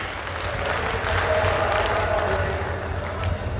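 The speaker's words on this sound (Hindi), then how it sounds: "जोरदार तालियां थोड़े साथ के लिए" Steady applause from a large crowd, a dense continuous wash of clapping that holds at the same level throughout.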